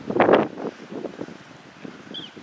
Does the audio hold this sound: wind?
yes